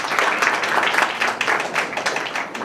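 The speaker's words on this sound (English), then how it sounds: "So can you just give a round of applause for Amit?" A seminar audience gives a steady round of applause, with dense clapping held at a fairly constant level throughout.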